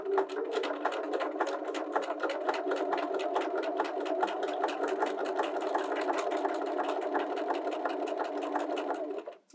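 A Bernina 325/335 sewing machine stitches a buttonhole with a steady, rapid mechanical whirr and even needle ticks. It runs continuously at close range and stops at the end.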